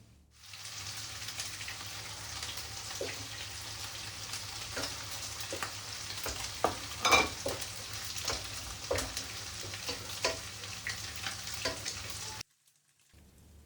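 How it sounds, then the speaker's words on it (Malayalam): Mixed vegetables stir-frying with soy sauce and tomato sauce, a steady low sizzle with scattered clicks and scrapes of stirring, the sound cutting off abruptly near the end, with no talking. "പിന്നെ കുറച്ച് സോയാ സോസും കുറച്ച് ടൊമാറ്റോ സോസും ഇട്ടിട്ട് നന്നായിട്ട് മിക്സ് ചെയ്ത് കൊടുക്കുന്നുണ്ട്"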